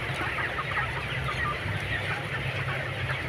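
A flock of 24-day-old broiler chickens clucks and chatters continuously at a farm, a dense, steady murmur of overlapping calls heard up close with no talking.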